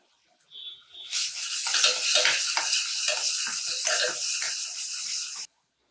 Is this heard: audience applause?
no